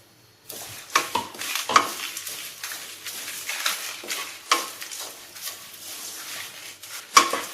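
A spoon scrapes and stirs dried shrimp and chilies in a pan with irregular metallic clinks over a light sizzle, close up.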